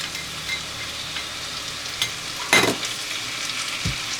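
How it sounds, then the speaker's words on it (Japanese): Anchovies sizzle steadily in a hot frying pan with garlic and butter, a constant crackling hiss with an occasional scrape or stir. "香りがね出てきたところでアンチョビ入れていきます。"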